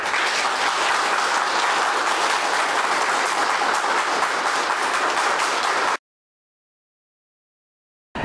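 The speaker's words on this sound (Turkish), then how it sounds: "Tuvaletler önünde toplanan esnaf alkışlayarak durumu protesto etti." Shopkeepers gathered in front of public toilets applaud in protest, a steady, dense crowd clapping that runs without a break for about six seconds, then cuts to silence.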